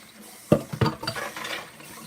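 Water runs and splashes in a kitchen sink while dishes are washed, with a few sharp clinks of crockery and pans, fairly close and moderately quiet.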